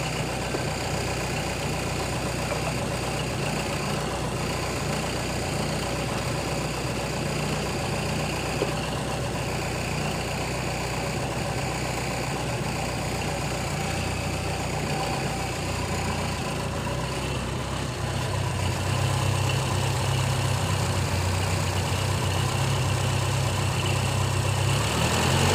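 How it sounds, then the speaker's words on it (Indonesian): A CNG-fueled car engine idles steadily at about 1000 rpm, a continuous low mechanical hum with a constant tone throughout, close and alone with no talking. "Posisi 1000 teman-teman, 1000 rpm."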